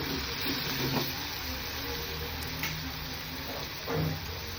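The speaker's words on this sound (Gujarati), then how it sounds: "ગ્રીન પેસ્ટને મસ્ત વઘારી દીધી છે. તેલ છૂટે ત્યાં સુધી થવા દઈએ." Green paste fries in hot oil in a pan for a green chickpea curry, giving a steady soft sizzle with a few scraping stirs and squelches, no talk.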